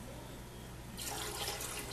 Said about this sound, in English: I use 4 cups of water. So I'm going to put that right in.